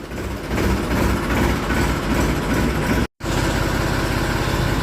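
A tractor engine idles steadily up close, a low throbbing rumble that holds even, broken only by one brief dropout near the end.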